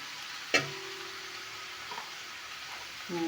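Amaranth greens (cheera) for thoran sizzling and being stirred in a pan, a faint steady fry with a sharp scrape or clatter near the start and another stir toward the end.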